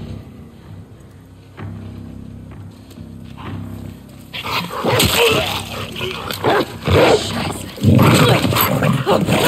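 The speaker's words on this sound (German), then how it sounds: "Hundi." A dog in The Last of Us Part II whimpers and yelps amid game sounds, quiet at first, then louder and busier with loud bursts in the second half, as a voice talks over it.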